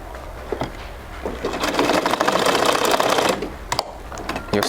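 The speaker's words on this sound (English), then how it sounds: "You're stitching the edge as well." A sewing machine runs close by, stitching the edge of a native trouser pocket with a rapid, even mechanical rattle that rises and then slows near the end.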